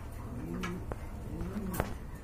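Soft, rounded pigeon cooing repeats in two rolling phrases, close by, over a low steady background murmur with a couple of faint clicks.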